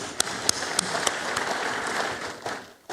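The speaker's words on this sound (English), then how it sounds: "I think our chairman deserves a better clap" Audience applause at a Kenyan secondary school heads' convention hall, a dense sustained clapping from a large seated crowd, fairly loud, with a few sharp individual claps standing out before it fades near the end.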